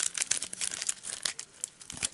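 A gate card deck from the Arkham Horror board game is given a quick shuffle, giving off dense, quiet papery crinkles and rustles in rapid succession, close by and without talking.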